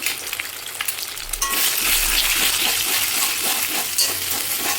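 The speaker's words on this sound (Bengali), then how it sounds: "তেলটা গরম হয়ে গেছে, আমি এতে ডিম ফাটিয়ে দিয়ে দিলাম।" Loud, steady sizzling and crackling of eggs frying in hot oil, close up and continuous, growing stronger after the first second.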